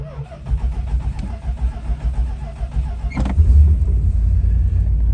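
A 1965 Chrysler 300L cranks with a whirring starter for about three seconds, then catches and fires into a loud, deep, steady rumbling idle, close by.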